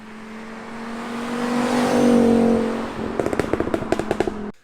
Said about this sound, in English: This engine produces a really satisfying growl.